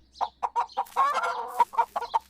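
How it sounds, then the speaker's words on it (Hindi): Cartoon chickens clucking in a farmyard scene of a 3D animated children's story, a series of short, close clucks in a bouncing rhythm with a longer run of calls in the middle, with no talk. "एक दिन अहमद को मुर्गियों के पास बहुत सारे अंडे नजर आ"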